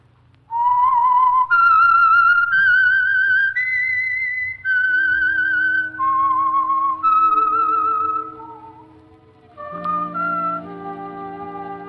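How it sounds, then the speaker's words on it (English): A whistled melody serves as the radio theme signal for The Whistler program, a series of clear sustained tones stepping up and down in pitch, bright and prominent with short breaks, ending on lower notes with faint accompaniment. "That whistle is your signal for the Signal Oil program, The Whistler."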